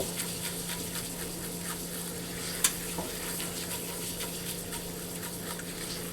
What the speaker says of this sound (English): I'm going to let that flour sizzle on low heat just for about 30 seconds.